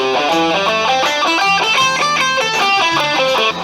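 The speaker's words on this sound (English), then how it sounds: "It's just a bunch of random notes and just playing non-stop" An electric guitar plays random notes non-stop in a fast, continuous stream of bright, slightly distorted tones, loud and alone for a few seconds.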